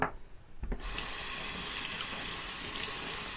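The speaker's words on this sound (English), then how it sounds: "Let me rinse the razor off a bit." A bathroom tap runs steadily while a vintage Valet AutoStrop razor with a modified blade is rinsed. The water starts with a sudden gush after a brief quiet moment, then flows as a loud, constant rush.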